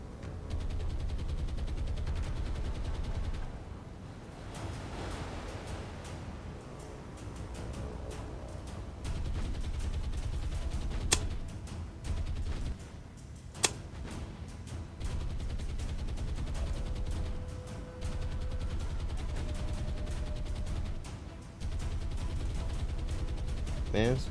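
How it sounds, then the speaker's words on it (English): Naval guns on a warship in the War on the Sea game fire in long stretches of rapid, rattling bursts with a few sharp louder cracks, broken by short lulls, while someone talks over them. "I'm amazed these guns still work."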